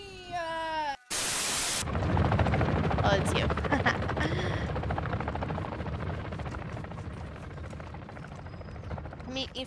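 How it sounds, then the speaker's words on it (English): A helicopter's rotor gives a loud, steady, rough whir with a fast pulsing beat that runs through most of the clip, and voices can be heard over it. "There's a helicopter."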